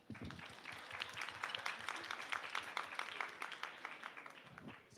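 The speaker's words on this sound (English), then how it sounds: "let's have a rain clap for ourselves." A group at a youth pre-conference session at ICFP performs a rain clap, fairly quiet finger taps and claps building into a dense patter that swells and then fades away.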